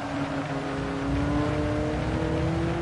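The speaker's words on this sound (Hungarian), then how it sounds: "Tadagolni kell a gázt, így halljátok is, hogy most már játszatok gázpedállal." Car engine in a rainy driving video game holds a steady, droning rev that rises slightly in pitch, loud and continuous with no talking.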